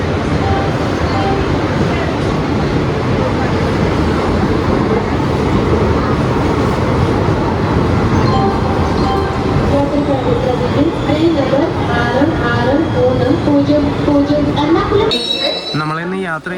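The Ernad Express, hauled by an Arakkonam-shed WAP-4 electric locomotive numbered 22785, pulls into Ernakulam station on a rainy day with a steady, loud rumble and roar throughout, ending in sharper metallic noise, while a voice talks underneath.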